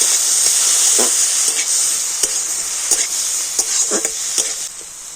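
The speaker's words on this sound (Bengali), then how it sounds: "সমস্ত কিছু আগে একটু তেলের সাথে ভালো করে ভেজে নেব" Ginger and green chili fry in hot oil with a steady, bright sizzle and hiss, broken by intermittent scraping stirs close up, with no voices.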